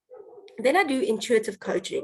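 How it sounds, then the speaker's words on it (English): Dogs bark and yip intermittently in the background beneath a woman's steady speech, close enough to be clearly audible. "sorry for the barking dogs"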